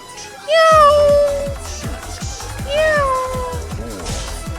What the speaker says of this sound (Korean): 고양이가 사람 말하기.